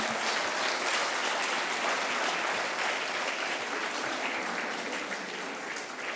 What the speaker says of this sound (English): A great, great round of applause for all our children.